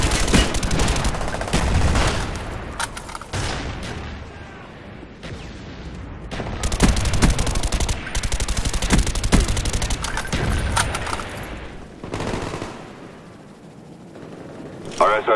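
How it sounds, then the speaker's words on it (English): Mortar strikes and dense gunfire fill a Call of Duty match on the Nuketown map, with repeated loud blasts and rapid shots throughout and occasional game announcer voice lines. "Friendly mortars inbound."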